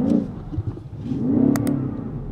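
Inside a BMW XM with its big V8 engine in sport mode, windows closed, a muffled deep engine note swells as the revs rise toward the limiter, then holds a steady rumble.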